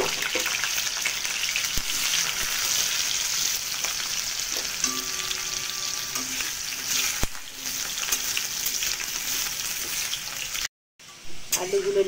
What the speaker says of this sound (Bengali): কড়াই তেল দিয়ে দিয়েছি, এবার আমি আলুগুলো ভেজে নেব।